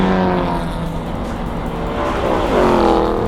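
A Ford Mustang race car drives on a track, its engine roaring loud and close with rising and falling pitch as it works through the gears, no talking.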